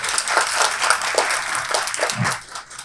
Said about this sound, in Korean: 김만원 대표님께 다시 한번 큰 박수 부탁드리겠습니다